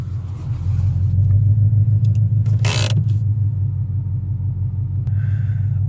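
A 2016 Ford Shelby GT350 sits outside with its engine running, a deep steady rumble throughout and a brief louder burst in the middle.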